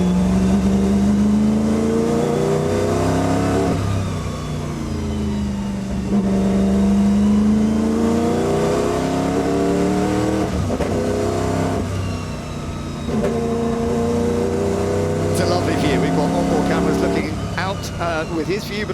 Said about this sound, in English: Let's take a listen in on the ride up the hill with Kenny.